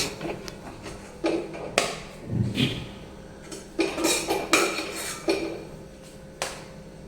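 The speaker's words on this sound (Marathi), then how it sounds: "तर आता आपण एका प्लेटमध्ये काढून घेऊ आणि 5 मिनिटं आपण थंड होऊन देऊ" Cooked spiced potato filling for besan potato idli being scraped out of a pan onto a plate, with a series of close metallic clanks and knocks of spoon against pan and dish, no voices.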